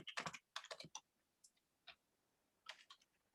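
Bursts of typing on a computer keyboard, quick clattering key clicks in three clusters with short pauses between, close and fairly quiet with no talking.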